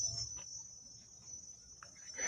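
Cicadas on a cacao farm hold a continuous high-pitched shrill drone, steady and fairly loud, with faint rustling and a few soft knocks beneath.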